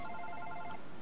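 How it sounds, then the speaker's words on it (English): A mobile phone rings in the Super Paper Mario video game, a brief, faint warbling electronic tone that cuts off partway through. "My mobile's going off."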